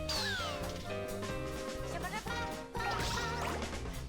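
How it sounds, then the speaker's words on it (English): A cat meows in the Katamari Damacy REROLL video game, several drawn-out, wavering cries over a steady layer of game music. "Oh, there's a cat?"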